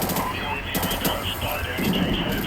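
Gunfire in the video game Call of Duty Modern Warfare Remastered, with rapid bursts of shots crackling close and loud, partly under a speaking voice.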